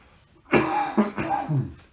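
A single person coughs several times in quick succession, close up, three or four harsh bursts within a second or so.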